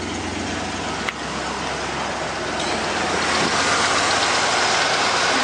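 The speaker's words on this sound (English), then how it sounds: "See, it's just running nice and smooth, no motor mount issues." A 1989 Ford F-150 4x4 engine idles smoothly with a steady, even hum, up close and fairly loud, with a single sharp click partway through.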